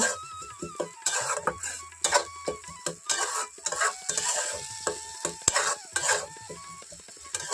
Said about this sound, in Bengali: এখন সবগুলো একসঙ্গে খুব ভালো করে আমি মিশিয়ে নিচ্ছি